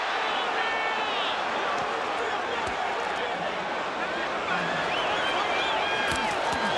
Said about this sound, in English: The crowd going nuts here, seeing Foreman score